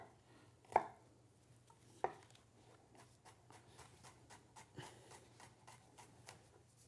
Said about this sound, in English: you also want to cut this up pretty fine